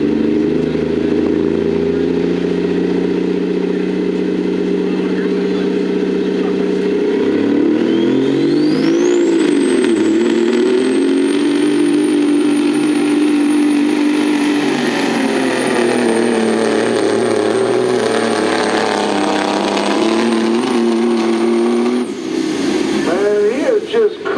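A modified semi truck with over 2,000 horsepower revs hard at a county fair truck pull, a loud sustained engine roar rising in pitch with a high whine, crowd and announcer-style talk running beneath.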